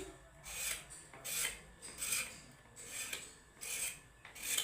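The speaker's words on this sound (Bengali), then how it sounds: "এটা আমি মশলার সাথে বেটে নেব" Pointed gourd flesh is ground with spices on a grinding stone, giving rhythmic, close rasping strokes. About seven scraping passes come at a steady pace, with no talk.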